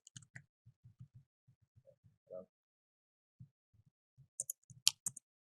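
Typing on a computer keyboard during niche research for local traffic, heard as a sparse run of soft, close key clicks and taps with pauses between bursts, followed by a quicker cluster of sharper keystrokes near the end.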